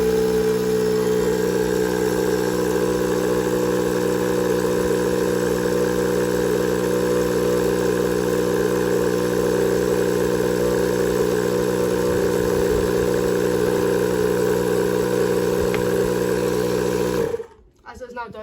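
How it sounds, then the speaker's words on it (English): Tyre air compressor running to inflate a car tyre to 60 psi, giving a steady, loud mechanical drone with a constant hum for about seventeen seconds before it cuts off abruptly. "And then turning the compressor on, checking this at 60 psi."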